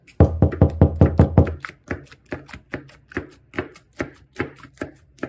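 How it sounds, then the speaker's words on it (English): Knocks on a house door come in a quick burst of sharp raps at first, then slower, sparser knocks and taps continue alone at close range. "Lily, maybe we should try knocking first."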